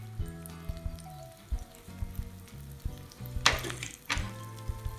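Cumin, curry leaves and dried chillies dry-roast in a pan for sambar powder, crackling softly with light popping and scraping stir strokes. Two brief louder rushes of sizzle stand out near the end.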